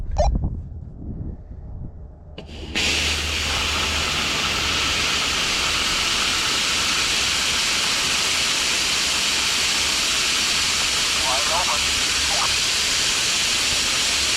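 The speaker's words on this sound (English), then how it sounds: "It's purging all the water right now." Compressed air blasting water out of water lines through a hose while winterizing them: a sudden start, then a steady loud rushing hiss that runs on unchanged to the end.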